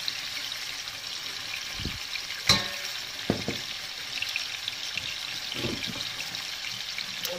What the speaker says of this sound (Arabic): شوف الجزار وخليه يتقال على خاطرو